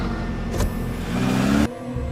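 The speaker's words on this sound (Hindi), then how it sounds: "गाड़ी आगे बढ़ा दी" A car pulls away from a village market and accelerates, its mid-pitched engine droning steadily and building in strength before a sudden drop near the end, close and without voices.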